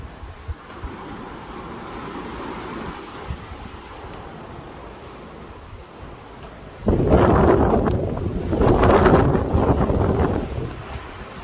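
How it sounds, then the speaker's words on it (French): Storm Larisa wind in Mérignac rumbles and buffets the microphone, then two strong, roaring gusts of about 130 km/h surge in succession, loud and close. "il a jamais été aussi violent, le vent"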